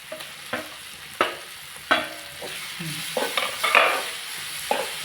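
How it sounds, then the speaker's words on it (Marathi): Tomatoes added to garlic and onion, sautéed and stirred in a pan for a prawn thali, with a soft sizzle under a series of sharp spoon scrapes and clatters spread unevenly, close and moderately loud. "चांगला परतला आता आपण टॅमॅटो घालूया"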